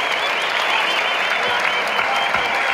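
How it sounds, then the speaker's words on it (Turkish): Tennis crowd at an ATP Istanbul semifinal applauding the match winner, Roger Federer: steady, dense clapping from a large audience fills the whole stretch at even loudness, with no pauses. "maçın galibi ve finalin adı alkışlarınızla Roger Federer"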